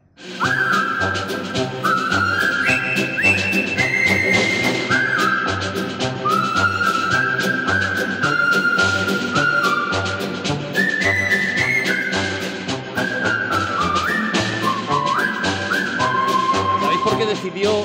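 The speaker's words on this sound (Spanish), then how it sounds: "la marcha del coronel Boogie, que es como se llama esta, este tema" Colonel Bogey March from The Bridge on the River Kwai whistled as a steady melody, loud and continuous, with a rhythmic backing beneath it.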